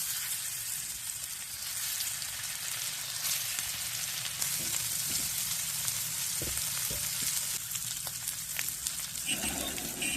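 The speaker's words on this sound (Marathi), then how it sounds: "म्हणून याच्यावरच मासे भाजते." Goan-style pomfret coated in rava shallow-fries in oil on an iron pan, a continuous close sizzle with faint crackles, steady throughout and free of talk.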